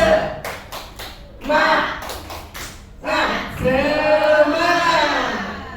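An audience at a positive-culture teaching session does a rhythmic spirit clap, bursts of quick sharp hand claps alternating with group chanting and voices, loud and close.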